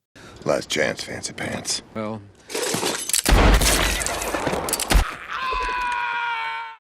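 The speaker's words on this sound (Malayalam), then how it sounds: "എന്നാൽ ഷുൾസ് വളരെ കാമായി ഒറ്റ വെടിക്ക് അവനെ വീഴ്ത്തി." A sharp gunshot cracks out during a tense scene in the film Django Unchained, set among spoken dialogue, low booms and a sustained musical tone.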